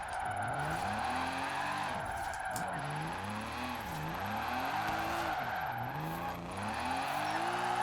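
A new Ford car in Forza Horizon 4 drives with a steady engine drone and repeated wavering tire skids and squeals, loud and continuous for several seconds, with no talk over it.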